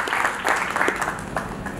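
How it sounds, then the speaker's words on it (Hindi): An audience claps at a poets' honouring ceremony, a dense patter of hands that holds steady for a moment at moderate volume with no voices over it. "मैं चाहता हूं कि जोरदार तालियों से आप एक बार उनका भी अभिनंदन करें।"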